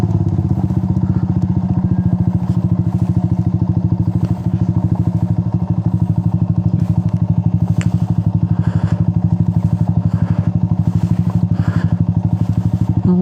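A motorcycle rides along a rough road on a solo ride through General Nakar, Quezon, its engine droning loudly and steadily throughout, with scattered thumps and rattles from the uneven surface.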